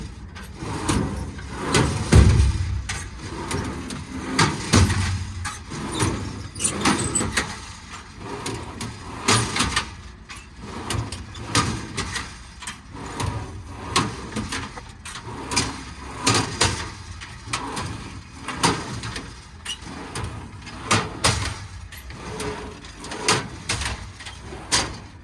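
Drawers on a 14-foot Adkins service body fitted to a 2019 Kenworth T370 mechanics truck open and close in a run of sliding rolls and clunks, with a low hum underneath throughout.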